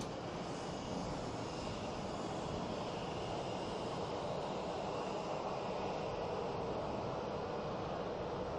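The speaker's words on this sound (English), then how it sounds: "now the noise and the hearing is actually from other planes taking off" A jet engine roars steadily in a broad, continuous wash of noise from planes taking off at some distance at an airport.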